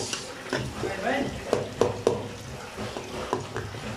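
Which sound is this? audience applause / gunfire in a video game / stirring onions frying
stirring onions frying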